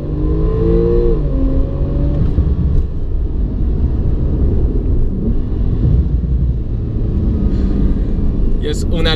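A Porsche 911 Turbo S pulls hard from inside the cabin, engine and exhaust droning loudly and rising in pitch through the gears, a continuous heavy roar with a brief shift dip.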